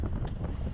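Gusting wind roars across the microphone while riding a 2021 Heritage Classic down the highway on a windy day, a brief, steady, loud low rumble with no voices.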